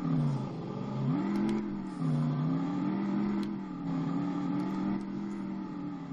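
Crown Vic cop car dragster build in the video game RevHead accelerating hard, a loud, close engine climbing in pitch through several gear shifts.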